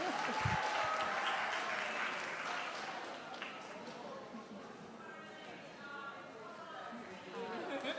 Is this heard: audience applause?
yes